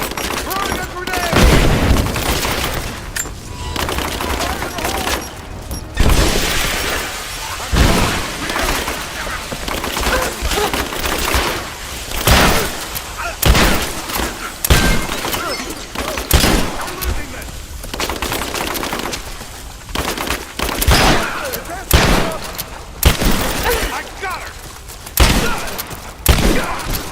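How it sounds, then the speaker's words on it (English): Loud, continuous gunfire and explosive booms from a combat scene in Rise of the Tomb Raider, with dense repeated shots and heavy blasts throughout. "Throwing a grenade."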